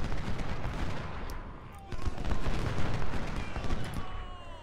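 Musket and cannon fire crackle across a Civil War battlefield in the Ultimate General strategy game, dense overlapping volleys rolling continuously, with a brief lull before the firing swells again.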